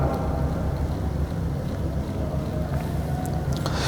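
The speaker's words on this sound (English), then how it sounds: "after switching on, the speed of the spinning wheel increases gradually" Gyroscope spinning wheel motor running up to speed in a mechanics lab, a steady broadband whir and hum that holds continuously at a fairly loud level, with no talking.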